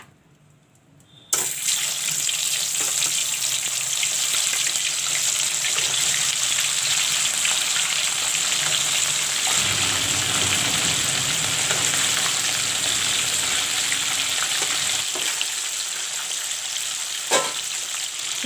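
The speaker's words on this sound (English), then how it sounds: "Now I will fry the fish." Fish fries in hot mustard oil, giving a loud, steady sizzle that sets in abruptly after a brief quiet start and continues without a break, with a faint clink or two near the end.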